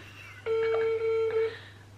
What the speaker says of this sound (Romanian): Hai, acum am pe cine sună. Hai pe Alexa